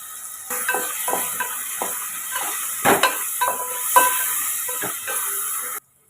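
Cut brinjal (eggplant) with salt sautéing in a pan: a soft sizzling hiss broken by repeated spoon scrapes and taps as the pieces are stirred, then a sudden cutoff near the end.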